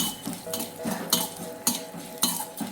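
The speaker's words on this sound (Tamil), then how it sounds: "லைட்டாக வாசனை வர வரைக்கும் வறுத்துக்கலாம்." Cumin and black pepper dry roasting in a pan for chicken kola urundai, with a spoon stirring and scraping in steady, rhythmic strokes and sharp metallic clinks about every half second, heard close and alone.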